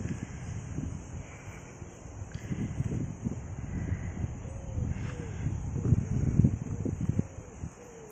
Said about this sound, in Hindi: हवा चल रही है एकदम ठंडी ठंडी